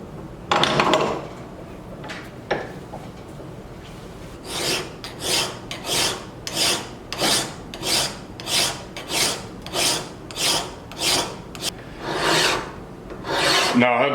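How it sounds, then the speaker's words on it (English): A hand file works a steel hammerhead clamped in a vise, first a couple of scattered scrapes, then a long run of evenly spaced, close rasping strokes, each a short swelling rub with brief pauses between. "I'm gonna spend an inordinate amount of time putting a file finish on this hammerhead."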